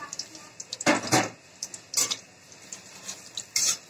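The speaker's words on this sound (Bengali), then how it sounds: "তেলটা গরম হয়ে গেলে আমি এবার পেঁয়াজটাকে ছাড়বো" Chopped onions dropped into hot oil in a pan while cooking chicken khichuri, brief clattering bursts of stirring and utensil scrapes over a faint low sizzle, fairly close.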